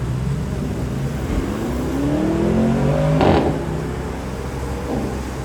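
A Porsche V8 engine idles and revs up, its pitch rising and falling steadily, with a low continuous rumble and a brief sharper burst partway through.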